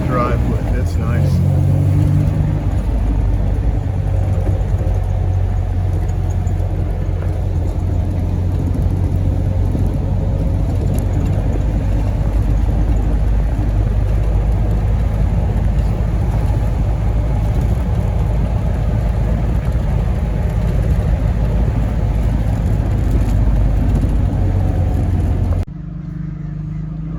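A 1956 Jaguar XK140 fitted with a Tremec transmission drives through its gears, a loud steady engine drone with road rumble from inside the car that cuts off abruptly near the end.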